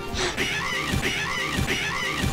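Rayman Legends character letting out repeated high, strained screams, four or five shrill cries in quick rhythm, loud and close with no talk.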